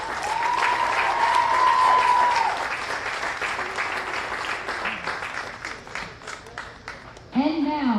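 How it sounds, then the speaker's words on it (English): Applause and crowd noise for the Texas team from Marshall at the Dixie Majors World Series baseball ceremony, a steady clapping wash over about seven seconds with a whistle early on and an announcer's voice starting near the end. "let's give one big round of applause for Texas"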